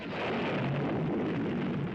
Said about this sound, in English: the countdown to a nuclear explosion